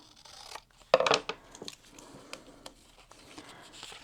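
Scissors trim the edge of a piece of felt with a short cluster of crisp snips near the one-second mark, followed by quieter rustling and handling sounds, close up.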